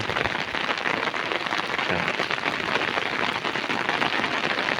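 Steady, dense hiss of heavy rain pouring down on a cassava field, constant and loud throughout with no voices.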